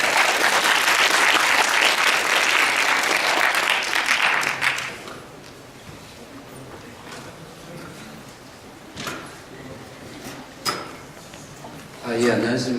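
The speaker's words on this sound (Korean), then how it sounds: "큰 박수로 모시겠습니다." An audience applauds to welcome a speaker to a lecture, a dense burst of clapping for about five seconds that then dies away, leaving quiet room noise, scattered knocks and brief talk.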